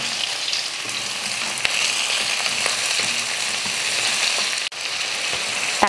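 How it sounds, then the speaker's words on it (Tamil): Three tomatoes sauté in a pan with garlic and onions for a coconut-free chutney, giving a steady, close, continuous sizzle and frying hiss with faint stirring. There is a brief dip near the end. "தக்காளியும் ஓரளவுக்கு நல்லா வதங்கிருச்சு"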